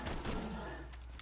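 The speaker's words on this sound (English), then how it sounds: "we're going to use our Gatling gun here and deal with these assholes." Gatling gun fire in the video game Borderlands 2 comes as a short, dense burst of rapid shots, loud and close, lasting just over a second.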